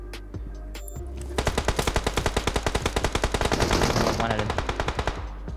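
Rapid automatic gunfire in a video game, a long steady burst of loud, evenly spaced shots running for several seconds, with a player's voice speaking briefly over it.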